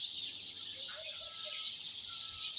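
Sparrows twitter in a faint, distant chorus at dawn in Israel, a continuous thin, high chatter with a few slightly louder calls standing out.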